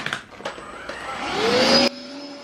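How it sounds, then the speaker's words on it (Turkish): A vacuum cleaner runs while someone cleans a room at home. Its motor whine rises in pitch, holds loud and close, then suddenly drops back to a lower hum, with a few knocks and bumps early on. "Ben de dedim o da boşken bir süpüreyim burayı."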